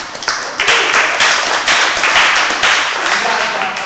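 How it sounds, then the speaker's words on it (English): A group claps for itself after finishing a workout, a loud, close burst of dense applause that carries on steadily for a few seconds. "So again, a little more clapping for yourselves."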